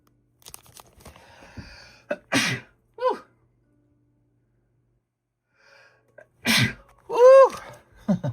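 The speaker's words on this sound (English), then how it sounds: "Ooh, I got to sneeze." A single loud sneeze bursts out near the microphone after a sharp intake of breath, at a table where trading-card slabs are being priced, with quieter rustling before it.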